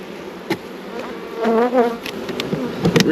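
Honey bees buzz loudly around a hive frame being lowered back into a box, a close wavering drone with rising and falling tones and a few soft knocks of wood.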